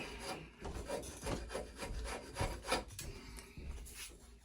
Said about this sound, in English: So I switch gears and go with a really aggressive rasp